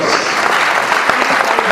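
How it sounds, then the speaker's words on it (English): Audience members at a Sadhu Vaswani Mission talk on positive living burst into brief, loud, dense applause that holds steady from start to finish. "Yes, it deserves a round of applause."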